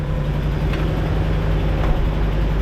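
A truck engine idles steadily and loudly with a low, even rumble, a faint ticking running through it and two brief sharper taps standing out.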